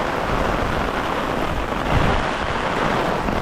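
Heavy downpour in Korea pours steadily and loudly, a dense broadband hiss of rain filling the whole stretch without pause or voices.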